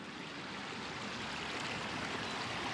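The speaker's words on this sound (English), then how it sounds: "River Clyde." Steady rushing of the River Clyde in rural Scotland, a soft, even wash of flowing water that holds constant throughout with no voices over it.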